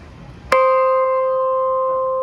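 A single bright metallic strike on a drum kit's cymbal bell during a backstage soundcheck at Madison Square Garden rings out clearly and sustains with a long, steady, slowly fading tone.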